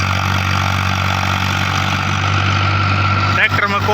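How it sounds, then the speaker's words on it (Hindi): A 55 hp tractor pulling a 9-foot super seeder runs with a steady, loud engine drone and rumble throughout, with a brief clatter near the end. "बिल्कुल पूरी तरह भगा रहा है ट्रैक्टर"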